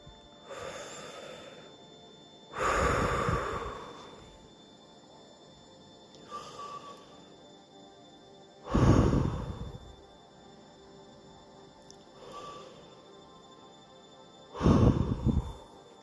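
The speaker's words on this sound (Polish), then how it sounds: "Weź głęboki oddech i poczuj, jak energia spotkania z duszą wypełnia Cię spokojem i harmonią. I oddychamy trzy razy." Slow, deep breaths during a guided meditation: several long inhales and exhales spaced a few seconds apart, close and clear, with quiet gaps between them and no talk.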